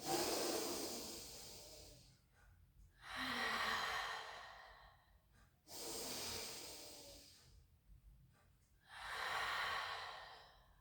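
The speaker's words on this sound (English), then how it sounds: "Take a breath in through the nose." Slow, deep breaths through the nose during a pilates class, a long airy inhale followed by a sighing exhale, repeated twice, close and clear with no talking.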